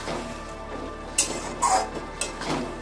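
A spoon scrapes and knocks around a pan as spice masala is stirred and fried for jackfruit chicken curry, with several close clinks and scrapes over a faint low sizzle and no talking.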